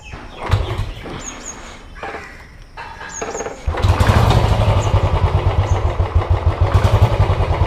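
A tuned motorcycle engine cranks in a couple of short bursts, then catches and settles into a loud, steady, rhythmic idle close by.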